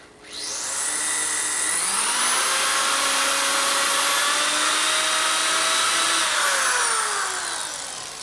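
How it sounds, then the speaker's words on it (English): A drill grinds steadily through a bolt head on a 1958 Harley-Davidson panhead 74ci engine top end, a loud continuous whine with shifting pitch that runs for about eight seconds, rising in tone partway through, with no talking. "Can't see what's drilling because the whole head of the bolt's getting cut."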